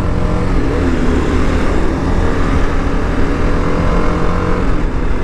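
Car engine held at high revs, a loud, dense, steady roar close by for several seconds with no clear drop or distinct pops.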